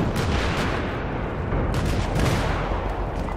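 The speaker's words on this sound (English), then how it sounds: "I just direct impacted a dude in there with a rocket and got nothing" Rocket blasts and heavy gunfire fill a Battlefield 3 firefight, with booming impacts layered over a continuous dense rumble of combat that stays loud throughout.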